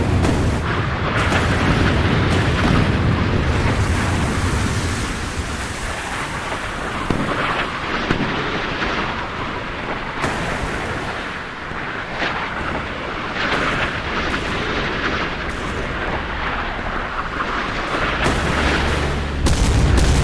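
Missiles striking an aircraft carrier and a destroyer in a naval wargame simulation, heavy rolling booms and rumbling blasts that follow one another over about twenty seconds, loud and close with no talk.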